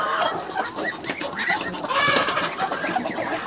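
Several hens cluck in a busy, overlapping chorus, close by and fairly loud, with scattered bird chatter and no talking.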